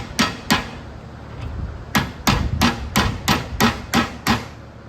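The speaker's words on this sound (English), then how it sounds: "Guess we'll use our hammer" Sharp metallic hammer strikes knocking greasy bearings out of a John Deere 318 mower deck, two blows, a pause, then a steady run of about eight close, loud hits.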